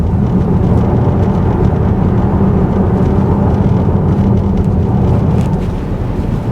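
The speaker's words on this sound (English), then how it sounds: "You can listen to how loud these tires are." Loud, steady tire roar from Hankook tires on a 2021 VW Tiguan SE R-Line driving over ice, a dense low rumble heard from inside the cabin throughout, easing slightly at the end, with no talking.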